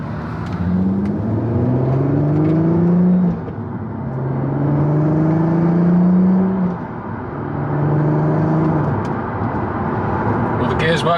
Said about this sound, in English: All the gears work fine, drives in a straight line, it drives.